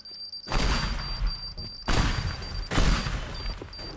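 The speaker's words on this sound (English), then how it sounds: "I like the explosion, it's so fun." Blasts go off in the video game Teardown, three heavy booming bursts in a row, each with a crackling rumbling tail, at moderate loudness.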